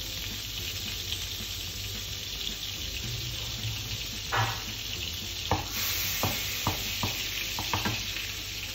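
Flora vegetable-fat spread sizzling in a very hot frying pan, a steady close hiss with a few sharp scrapes and stirring clatters toward the end, no speech over it.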